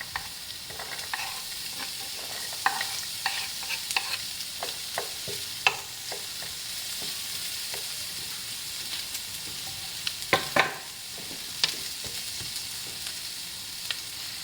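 Sliced onion and garlic sauté in a pan under a steady hiss, with frequent light taps and scrapes of a spatula stirring, one brief louder clatter near the end, and no voices.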